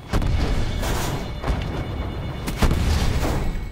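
Gunfire in the Black Ops 4 multiplayer game, dense and booming with heavy thumps and rolling blasts running on throughout, a couple of sharper hits standing out.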